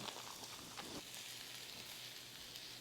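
Butter sizzles in a hot pan with onions already cooking, a faint, steady crackling hiss with small pops, with no talking over it.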